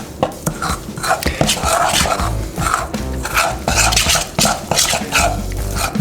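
Poolish pizza dough mixed by hand in a bowl, with loud, close, wet slapping and scraping strokes that come in uneven bursts over a low rumble, punctuated by sharp knocks against the bowl.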